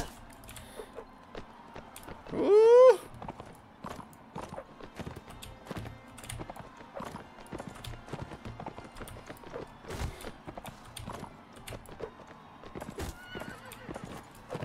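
Horses in the Mount & Blade: Warband video game, hooves clip-clopping in a light scattered rhythm throughout, with one loud close whinny near the start and faint battle noise in the background.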